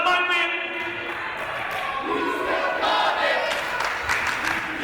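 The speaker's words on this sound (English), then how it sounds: "This crowd saying you still got it to Williams" A British wrestling crowd chants in unison for Doug Williams, a loud rhythmic group chant filling the room, briefly swelling into cheers and claps.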